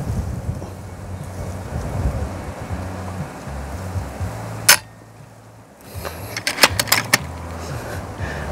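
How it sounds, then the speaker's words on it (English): Strong wind buffets the microphone outdoors at an air-rifle target range, a steady low rumbling roar with gusts, broken by one sharp click, a short lull, then several quick sharp clicks as the wind picks up again. "Strong wind."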